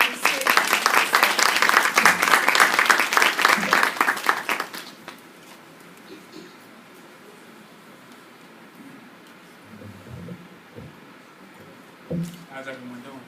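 Applause from the audience at a university teacher induction ceremony, loud and dense for about five seconds, then dying away into quiet room tone with a few faint bumps and shuffles.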